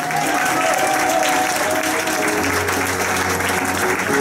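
Audience applause at a school entertainment event, a loud, sustained wash of many hands clapping steadily throughout, with a faint voice underneath.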